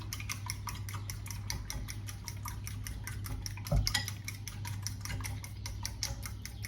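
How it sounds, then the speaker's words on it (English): Eggs whisked with salt and black pepper in a bowl, a quick, regular run of light ticking clinks from the whisk against the bowl, close and steady, with one louder knock midway. "So I'm just gonna give that another little whisk."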